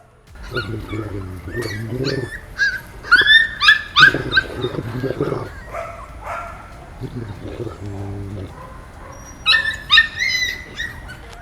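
A trained dog whimpers and lets out high yips and whines in short bursts at close range, with a person speaking between them.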